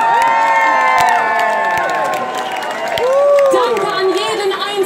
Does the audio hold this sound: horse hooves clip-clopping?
no